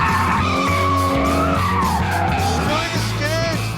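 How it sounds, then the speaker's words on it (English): A supercar skids through donuts on a desert road, tyres squealing in long wavering howls over a revving engine, loud and close, while someone talks over it. "Doing a big skid now!"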